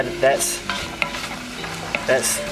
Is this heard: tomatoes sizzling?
yes